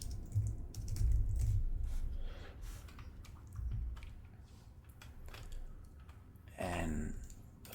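Fingers type on a computer keyboard in soft, scattered clusters of key clicks, quiet and close, with brief pauses between bursts.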